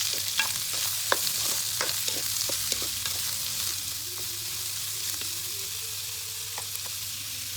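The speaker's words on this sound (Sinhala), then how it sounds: "ඊට පස්සේ මේ විදිහට හොඳට සොසේජස් එක කලවම් කරගන්න." Sausages in a Sri Lankan tempered sausage dish are stirred in a frying pan, giving a steady sizzle with scattered sharp clicks and scrapes of the spoon against the pan.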